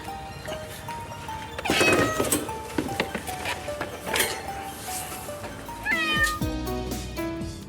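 A stray cat meows repeatedly during an animal rescue, several drawn-out cries spaced a second or two apart, close and fairly loud, with some handling noise between them.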